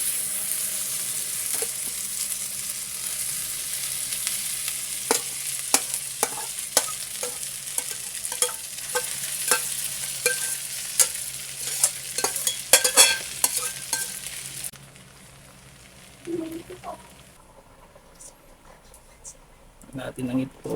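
Sisig with butter sizzles on a new hot plate, a steady crackling fry broken by repeated scrapes and stirs of a utensil, before the sizzle suddenly drops to a quieter hiss near the end.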